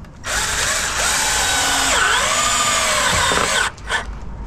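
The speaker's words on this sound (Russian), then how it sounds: "Берем теперь саморезик. И вот так вот берем и крутим. Прикрутили." A cordless power screwdriver drives a self-tapping screw into a balcony roof, a loud, close motor whine for about three seconds with pitch shifting as the screw bites, ending in a brief second burst.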